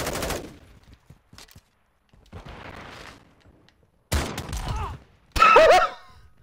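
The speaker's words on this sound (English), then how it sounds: "It's a pump action shotgun, but there's no actual like pump animation." Pump-action shotgun blasts in Modern Warfare 2 come in sharp, loud, separated bursts with quiet gaps between them, and a short vocal cry rises over the last shot.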